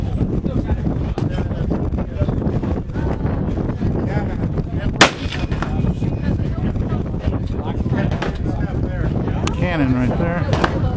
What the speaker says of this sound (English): Cannon right there.